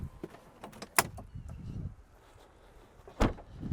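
Clunks and clicks of a Toyota Fortuner or XUV bonnet being opened by hand, a sharp latch pop near the start and another heavy clunk near the end, with quiet rustling between, no talking.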